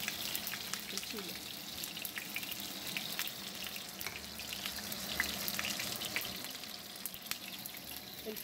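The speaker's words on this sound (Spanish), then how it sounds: "Nada más le voy a dejar que fríe para ponerle" Potatoes fry in a pan with a soft, steady crackling sizzle, faint and continuous, with occasional light clinks and a low kitchen hum beneath.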